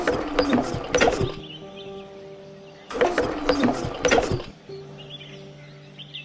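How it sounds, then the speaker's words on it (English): Pressure being pumped into an extinguisher in the Sherlock Holmes: Crimes and Punishments game, two bursts of clanking, ratcheting mechanical strokes, each followed by a quieter stretch with a steady hum. "First of all, let us pump the pressure inside the extinguisher."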